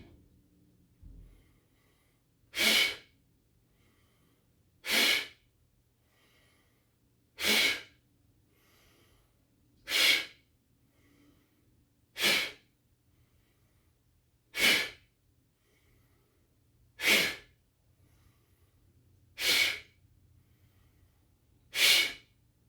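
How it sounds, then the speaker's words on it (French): Slow deep breathing for a relaxation exercise, inhaling through the belly and blowing out, about ten evenly spaced airy exhales every two and a half seconds, close and alone in a quiet room. "Idéalement, quand vous inspirez, inspirez par le ventre et soufflez."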